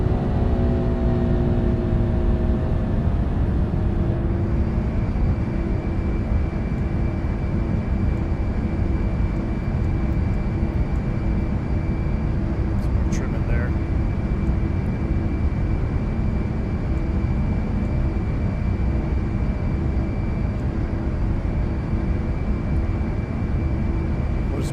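Lockheed L1011 TriStar jet engines at climb thrust, a steady loud broadband roar with constant tonal whine throughout, uninterrupted and close.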